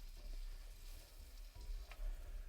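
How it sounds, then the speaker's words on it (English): Food shallow-frying in a pan during winter campervan cooking, a soft steady sizzle and crackle with faint stirring movements, close but quiet, no voices. "So all I'm doing is doing shallow frying these."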